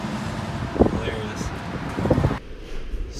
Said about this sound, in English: So windy outside